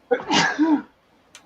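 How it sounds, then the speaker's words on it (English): One sharp, close sneeze bursts out, followed by a short breathy tail and a faint click afterward. "I've been sneezing all day."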